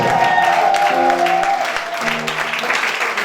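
A church congregation claps loudly and continuously, a thick burst of applause with a sustained musical tone underneath that eases slightly toward the end.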